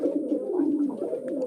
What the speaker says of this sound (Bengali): দেখেন কত সুন্দর কবুতরগুলো।